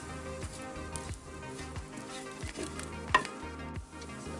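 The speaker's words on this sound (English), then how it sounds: "You got to stir always like this." Fish mustard coconut curry sizzles in a pan while a spoon stirs it, soft wet scraping and bubbling strokes repeating steadily at close range with one sharper clink of utensil against pan, no voices.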